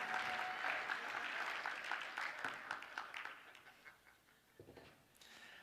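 Conference audience applauding a speaker, dense clapping at first that thins into scattered claps and fades, with a few voices briefly audible near the end.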